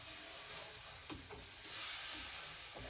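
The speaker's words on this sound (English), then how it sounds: "Now I'm going to deglaze with some white wine." White wine poured into a hot pan of golden roux for crispy fried pork chops, giving a steady sizzling hiss with a couple of brief stirring scrapes, swelling louder toward the end.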